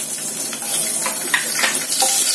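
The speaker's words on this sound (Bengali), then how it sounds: "কাঁচা লঙ্কাটা ফোড়ন হয়ে গেলে তোমার ফোড়নটা হয়ে গেছে" Green chillies and black cumin sizzle in hot oil in a pan where fish has just been fried for a Bengali fish curry, a steady close-up hiss with faint crackles throughout.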